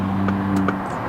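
Range Rover P38 4.0 V8 with a holed rocker cover, idling loudly with a steady low drone and a few faint clicks, no talking.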